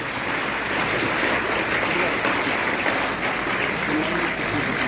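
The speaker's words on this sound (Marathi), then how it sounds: "जोरदार टाळ्या झाल्या पाहिजे." An audience claps loudly and continuously at a school National Mathematics Day event, a dense steady roar of applause with voices mixed in.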